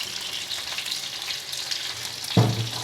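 Marinated single-bone fish frying in oil makes a steady, moderate sizzle close by, with a brief louder bubbling burst near the end and no talking.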